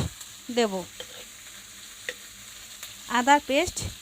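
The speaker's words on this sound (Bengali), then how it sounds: "একটু ভালোভাবে একটুখানি নাড়ব" A spoon stirs vegetable khichuri with chopped tomato in a pan, giving sparse scrapes and light clicks over a quiet background, with two brief squealing tonal sounds.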